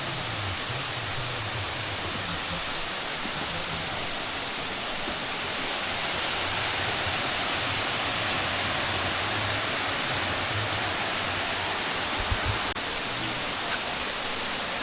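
Balite Falls waterfall in Amadeo, Cavite roars as a constant, broad rush of falling water, steady and fairly loud throughout with no voices.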